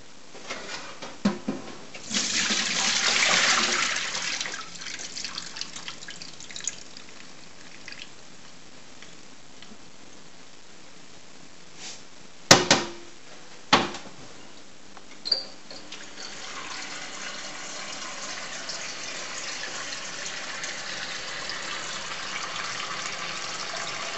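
Tap water runs to change the soaking water for salt cod, a strong gush for a few seconds then quieter trickling and splashing, with a few sharp knocks of a container midway and a steady low flow continuing to the end.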